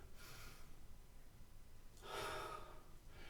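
A big inhale drawn in through the mouth during a singing breathing lesson, a soft airy rush at the start and a louder, fuller intake near the middle, close and alone with no talking.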